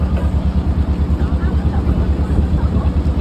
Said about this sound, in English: We're on a tractor.